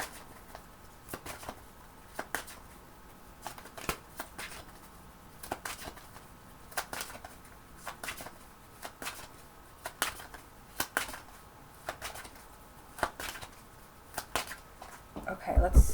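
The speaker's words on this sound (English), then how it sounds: "Let me keep shuffling." Tarot cards are shuffled in repeated quick riffles, soft crisp bursts recurring every second or so, close up with a quiet room behind.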